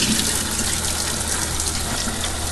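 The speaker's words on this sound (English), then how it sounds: "I'm going to give these one other good rinse here." Running tap water gushes steadily over shrimp being rinsed at a kitchen sink, a loud, close, continuous hiss with no pauses.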